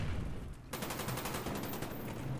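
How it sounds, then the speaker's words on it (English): A grenade blast and gunfire in Call of Duty: Black Ops on PC, with a loud rumbling burst followed by a dense, rapid crackle of shots close by. "I got grenaded"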